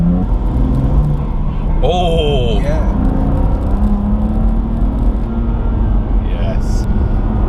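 A BMW M2 Competition fitted with an Eventuri intake drives along with a loud, steady low engine rumble and road drone heard from inside the cabin, while people talk briefly over it.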